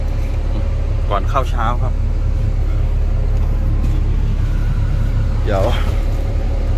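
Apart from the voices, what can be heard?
diesel engine of a Super Yao dump truck being driven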